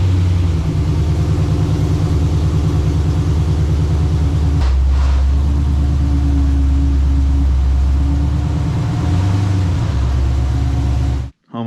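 A car engine rumbles and idles steadily as the car pulls into a garage, loud and close throughout, with a brief clunk midway before it cuts off abruptly at the end.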